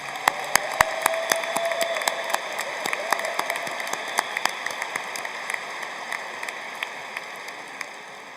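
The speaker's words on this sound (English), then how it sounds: "Let's give them a round of applause." Audience applause at a university graduate commencement ceremony, a steady wash of many hands clapping in a large hall, with sharp individual claps standing out near the start and the sound holding fairly even throughout.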